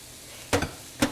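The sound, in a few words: shredded carrots cooking in a pan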